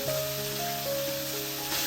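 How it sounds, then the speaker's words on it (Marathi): Chopped ridge gourd dropped into hot tempering in a home kitchen gives a steady close sizzle and crackle of frying, with no talk. "दोडका आपण फोडणीत टाकायची."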